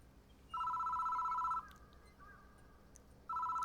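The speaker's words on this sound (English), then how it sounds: "The phone is ringing." Video game telephone ringing in electronic bursts, one long ring, a quieter pause with faint warbles, then the ring starting again, fairly loud with no speech.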